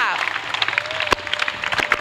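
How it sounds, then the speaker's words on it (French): A church congregation claps during a healing and salvation weekend service in Port Bouët, rhythmic applause and scattered sharp claps under voices and singing, with one loud clap standing out near the middle. "Clap for Jesus."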